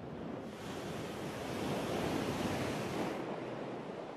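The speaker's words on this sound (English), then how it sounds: "The richness of Starbuck's reef ends with the breaking waves." Ocean waves breaking on Starbuck reef in the South Pacific: a steady, broad roar of surf that swells slightly in the middle, with some wind noise on the microphone and no voices.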